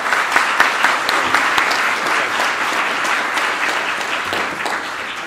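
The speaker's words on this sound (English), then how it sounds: "So can we give this crew a round of applause?" An audience at a workplace technology conference in San Francisco applauds a panel, giving a dense, even burst of clapping that holds steady without any talk over it.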